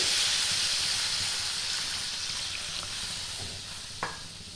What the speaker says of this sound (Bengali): আমি এখানে গরম জল দিচ্ছি